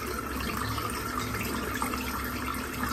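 Water running steadily from a tap while making shaving lather, a soft continuous hiss and splash, moderately quiet with no talk.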